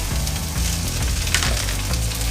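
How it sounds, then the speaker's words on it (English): Finely chopped garlic and ginger with green beans sizzle steadily in a hot pan, a dense continuous frying hiss close up with faint scraping and no talking. "Finely chopped garlic, finely chopped ginger right in. You're gonna get that sizzle right away."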